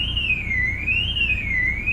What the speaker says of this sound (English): the alarm again!